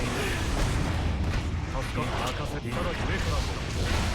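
Explosion booms and blasts from the fighting game Hardedge, a dense, continuous barrage of loud impacts that carries on under speech the whole time.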